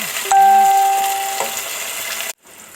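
One onion dropped into half a cup of hot oil for a sweet pumpkin curry sets off a loud, steady sizzle that slowly fades, with a few clinks of utensils, then cuts off abruptly near the end.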